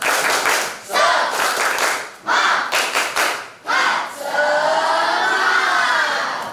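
A class of students claps in several bursts, a quick rhythmic pattern of sharp hand claps with short pauses, ending in a longer, looser round of clapping.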